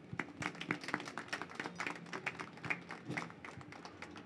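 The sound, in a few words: audience applause for Miss Guadeloupe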